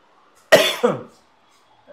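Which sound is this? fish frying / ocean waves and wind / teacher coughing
teacher coughing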